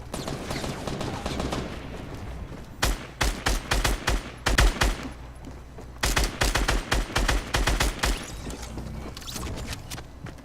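Minigun fire in a Fortnite Battle Royale squad match, rapid bursts of loud automatic gunfire in several clusters over a steady background game din, with no talk.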